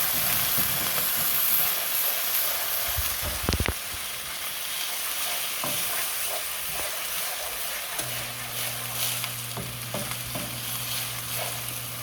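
Apple juice, brown sugar and Craisins simmer in a pan for a stuffed acorn squash dish, giving a steady close sizzle and hiss with occasional stirring clatter, and a low hum joins in near the end.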